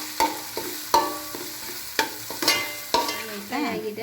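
Coriander, chilli and turmeric powder being stirred into a frying mushroom mix in a pan, with repeated sharp spoon scrapes and clinks about once a second over a steady close sizzle, no talking.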